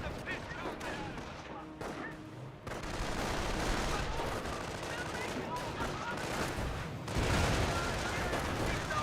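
Bursts of machine gun fire rattle through a Company of Heroes battle amid a dense, noisy wash of combat, growing louder and more continuous partway through, with distant booms mixed in.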